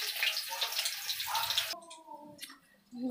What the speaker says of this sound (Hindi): पानी निकाल लेती हूँ।